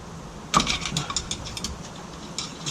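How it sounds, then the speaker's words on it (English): A flathead screwdriver pries a Nissan 240SX S13 rear axle out of its housing, giving a string of sharp metallic clicks and knocks, close and moderately loud, over a quiet background with no speech. "you just apply a little bit of pressure and just push the axle out from the housing"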